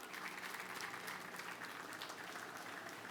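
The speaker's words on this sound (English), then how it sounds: "Let's give them a round of applause" A crowd of event attendees gives a sustained round of applause for safety professionals at a 2024 NFL Draft recap gathering, a steady dense wash of clapping throughout with no talk.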